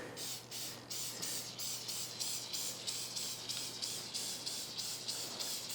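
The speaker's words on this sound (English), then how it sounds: "I'm going to spray with a little bit of cooking spray" Repeated short hissing bursts of cooking spray into a baking tin in a steady rhythm, about a dozen quick pumps, close and fairly quiet.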